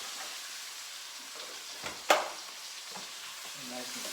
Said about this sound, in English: Nice and sizzling here,